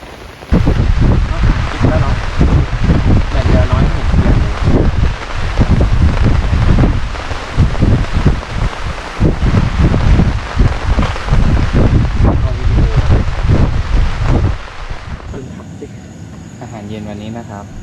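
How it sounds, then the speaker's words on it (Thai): Heavy rain pours down as strong wind roars and gusts against the microphone at a tent campsite at Hua Laem, Kaeng Krachan, Thailand, with someone talking over the steady noise. "ฝนตกครับ ลมก็แรงด้วยนะครับ"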